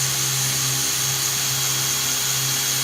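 A power drill bores through an aluminum roof rack bracket on a van, a loud, steady, high-pitched whine held close up without a break, no voices.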